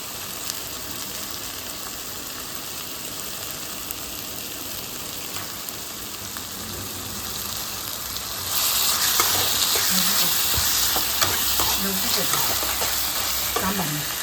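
Mustard seeds and chana dal frying in hot oil in a home kitchen, a loud continuous sizzle that swells brighter partway through as more spluttering and popping joins in, with no talk.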